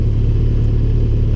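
A 2013 Honda CB1100 motorcycle engine pulling steadily in third gear at low revs, a loud, close, even throbbing rumble with no breaks.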